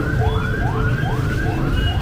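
A garbage truck's siren wails on a busy Kathmandu street, its rising sweeps repeating steadily about every half second, loud and close over low traffic rumble.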